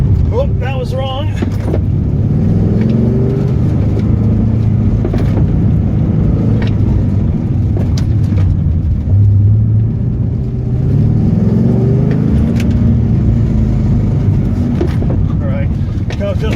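A Pontiac GTO car driving hard around an autocross course, a steady loud engine rumble throughout with shifting tones as it accelerates and understeers, with some speech mixed in.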